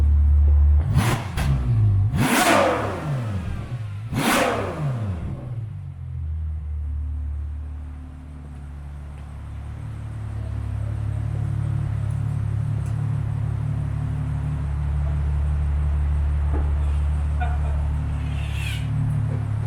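A Ferrari 812 Superfast accelerates. Loud, close bursts of engine revving and rushing come in the first five seconds, then settle into a lower, steady rumble of driving.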